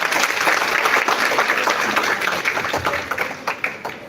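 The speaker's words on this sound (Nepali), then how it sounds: "एकचोटि फेरि पनि जोरदार ताली बजाउनुहोस्।" A live audience applauds at a gathering in Nepal, a dense, steady wash of clapping that runs the whole time and thins slightly toward the end, with a few sharper claps standing out.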